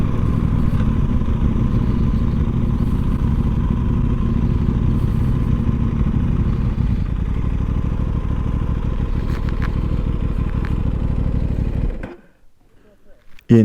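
Aprilia RS 660 motorcycle engine revved repeatedly with throttle blips, loud and close, running steadily for about twelve seconds before cutting off abruptly.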